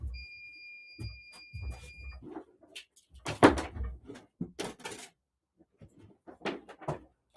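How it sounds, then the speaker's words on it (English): A router's warning beep, a steady high electronic tone sounding for about two seconds at the start, followed by scattered knocks, handling noises and brief speech-like sounds in a quiet room. "what was that beeping? That was my router."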